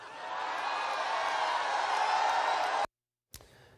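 A crowd at a Trump rally cheers and whoops loudly and steadily for a few seconds before cutting off abruptly.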